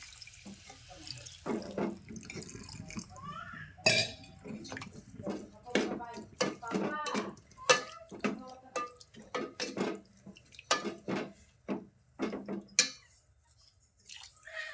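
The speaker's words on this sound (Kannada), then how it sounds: "ಈಗ ನೋಡ್ರಿ ಇದಕ್ಕೆ ನೀರನ್ನು ಹಾಕೊಂಡ್ಬಿಡ್ತೀನಿ ರೀ" Water runs and splashes into a metal idli steamer pot in uneven bursts, with clinks of utensils and a voice talking quietly in between.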